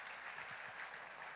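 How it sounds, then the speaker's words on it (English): Faint, steady applause from an audience after an invocatory dance performance, a soft, even patter of many hands that holds without a break for the whole stretch. "she deserves a little more bigger round of applause"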